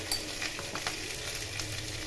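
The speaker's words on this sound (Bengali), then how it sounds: "গরম তেলে কালো জিরে এবং সাদা জিরে ও শুকনো লঙ্কা ফোড়ন দিয়ে সিদ্ধ করে রাখা আলুগুলো একটু ভেজে নিচ্ছি" Boiled potatoes frying in hot oil with black and white cumin and dried chilli, a steady close sizzle with soft stirring scrapes throughout, no voices.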